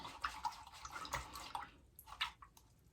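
A paintbrush with acrylic paint swished and rinsed in a water cup, quiet watery sloshes and drips close up in a few short bursts, then a brief pause and a final splash.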